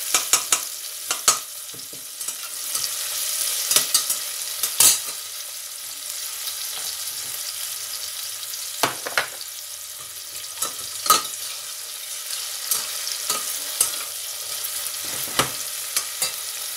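Onions and cumin seeds fry in a pan with a constant soft sizzle, broken by scattered sharp scrapes and taps of a spoon stirring against the metal.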